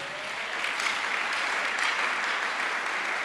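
A church congregation applauds in a steady, dense burst of clapping that fills the room and holds at an even level throughout.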